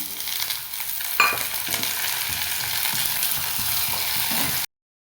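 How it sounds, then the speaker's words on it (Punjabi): Onions, tomatoes and two green chillies fry for dal with a dense close sizzle, scraped now and then by a stirring spoon, and no voices. A sharp clink sounds early, and the sound cuts to silence at the very end. "ਜਦ ਤੱਕ ਟਮਾਟਰ ਸੌਫਟ ਨਹੀਂ ਹੋ ਜਾਂਦੇ ਆਪਾਂ ਇਸੇ ਤਰ੍ਹਾਂ ਹੀ ਇਹਨੂੰ ਫਰਾਈ ਕਰਾਂਗੇ"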